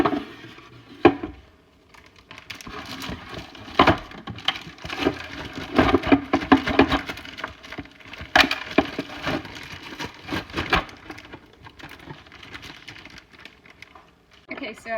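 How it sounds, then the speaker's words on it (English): Frozen strawberries tumble into a bucket and are crushed with a spoon, giving close, irregular knocks, scrapes and crunchy squelches in clustered bursts with short pauses between. "I've dumped my strawberries in the bucket. I took a spoon and just kind of crushed them up a little bit"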